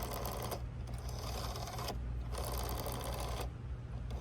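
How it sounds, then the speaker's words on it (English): A vintage 1970s gold French rotary cradle telephone dial turning, repeated whirring and clicking spells separated by brief pauses, faint and close. "It's really nice using rotary dials."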